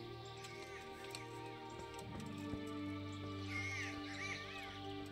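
In Kingdom Come: Deliverance, a raven lets out a brief pair of hoarse caws late in the stretch over a low, steady game ambience.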